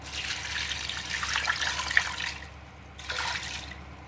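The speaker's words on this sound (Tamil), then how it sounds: "இப்போ இதுக்கு ஒரு சம்புக்கு தண்ணி வைக்கிறோம்" Water poured into a cooking pot for boiling palm sprouts seasoned with turmeric and salt, a steady splashing pour lasting a couple of seconds, a pause, then a shorter second pour, close and alone.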